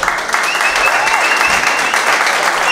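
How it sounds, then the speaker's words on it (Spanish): A crowd at a gathering of Baní artists in Boston applauds, a brief, loud, steady burst of clapping with a faint voice or whistle running through it. "Señores, un aplauso a este hombre."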